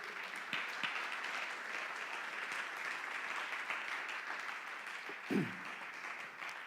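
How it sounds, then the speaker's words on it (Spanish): Congregation applauding during a Spanish-language church service, a steady wash of clapping that fills the whole stretch at moderate distance, with a brief louder thump near the end. "Démosle un aplauso al Señor Jesús."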